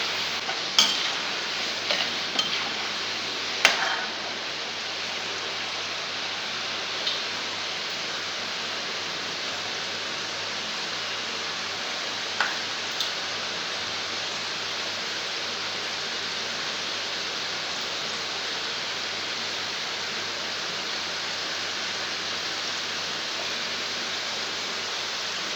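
Namkeen mixture frying in a pan of hot oil at home, a steady broadband sizzle throughout with a few brief clinks and stirring taps early on, no talk.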